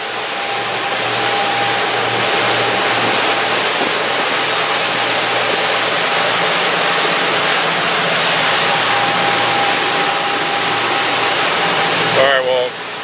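Loud, steady engine drone from a 48-foot Cabo sportfishing boat underway in the Florida Keys, a broadband roar with constant low hum and faint tone that holds throughout before a brief disturbance near the end.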